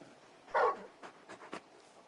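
Torgal, a large dog in the video game Final Fantasy 16, gives one short vocal burst followed by a few softer whimpering yips, close and alone with no talking.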